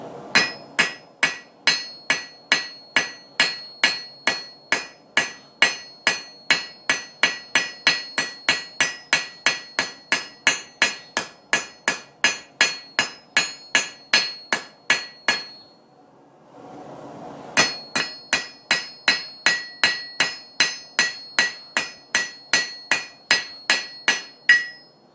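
Hammer blows flattening the metal of knife maker tongs, a long run of sharp, evenly spaced ringing strikes close by, pausing briefly about two-thirds through before the regular hammering resumes, no talking.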